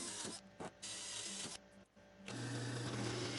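A sander grinding against a table saw sled jig, a continuous close buzzing drone broken by brief gaps, shifting to a steadier, heavier hum partway through.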